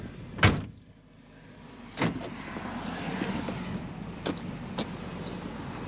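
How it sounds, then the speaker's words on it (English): Van door locking outdoors, with a few sharp clicks and clunks spaced over several seconds against a quiet background of road ambience, moderately near. "I'm gonna lock the door."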